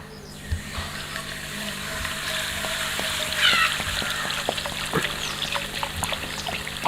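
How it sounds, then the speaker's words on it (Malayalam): Coca-Cola poured into a hot pan, a steady close trickling and splashing of liquid with a faint sizzle, continuous throughout with scattered small pops. "നമ്മൾ നേരെ നല്ല ചൂടുള്ള പാനിലേക്ക് ഒഴിച്ചു കൊടുക്കുകയാണ്"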